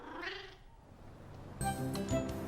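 A cartoon cat in the Caillou kids' show meows several times in a close, clear series of short tonal calls that follow a quiet stretch of soft room tone.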